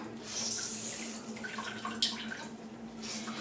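Water running and dripping as a soaked bread roll is squeezed out by hand over a kitchen bowl or sink while making meatballs, a close, steady trickle with a brief louder splash midway.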